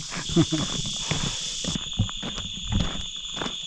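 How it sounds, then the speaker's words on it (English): Crickets at a night campsite keep up a steady, high, shimmering drone through the whole stretch, with faint low rustles and soft movement sounds beneath it. "So it's going to be just me tonight and the crickets."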